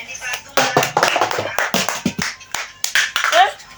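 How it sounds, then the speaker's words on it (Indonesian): Hand clapping demonstrated by a speaker, sharp, close claps in an uneven pattern broken by pauses, mixed with talking between the claps. "Terus ada yang tepuk tangan kayak gini suaranya."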